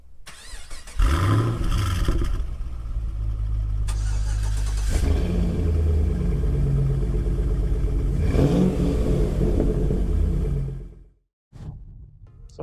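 Chevy SS V8 cold start: a sharp crank and catch into a loud idle, a couple of revs, then a long high idle that drops off and cuts out near the end.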